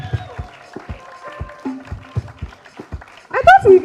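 A thin audience at a Lagos SME bootcamp claps for a panelist: sparse, sharp handclaps in a loose, regular rhythm, near and fairly soft, ending with a voice speaking.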